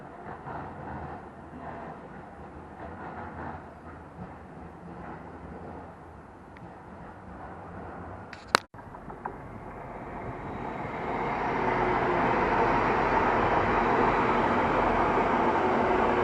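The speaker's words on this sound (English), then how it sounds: "At the same time, a tram is leaving going to East Didsbury." A tram pulls out of Rochdale bound for East Didsbury, its rumble building from a quiet start after a sharp clunk into a loud, steady roar as it gets under way nearby.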